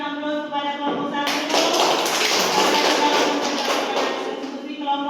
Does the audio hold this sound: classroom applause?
yes